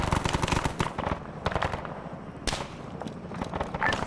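Infantry rifle and machine-gun fire in a modded video game battle between Germans and Soviets: a steady, moderately distant crackle of rapid shots and bursts that rarely lets up.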